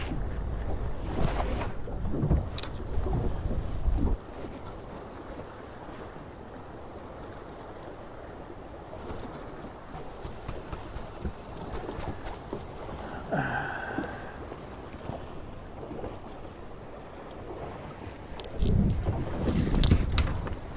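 Strong winter wind blows across an open ice-fishing spot, roaring and buffeting a nearby microphone in heavy gusts at the start and end, with a steadier rush between.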